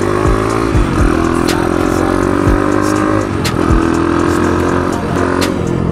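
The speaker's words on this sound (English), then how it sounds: "the speed on this thing feels so much better and smooth, like it accelerates" CT70 clone minibike with a swapped Piranha 140 engine accelerating, loud and close, revs climbing in repeated pulls with gear changes between, a continuous buzzing engine note throughout.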